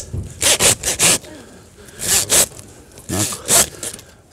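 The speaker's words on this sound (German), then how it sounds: "Ich säge jetzt hier runter." A hand saw cuts through a pig carcass during butchering at a traditional pig slaughter feast, in three groups of rasping back-and-forth strokes with short pauses between them.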